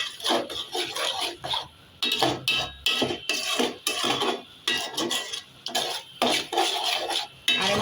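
Masala is stirred and fried over low heat in a pan for a spicy mutton curry, with repeated close metal scrapes and clinks of a spoon in rhythmic bursts over a soft sizzle.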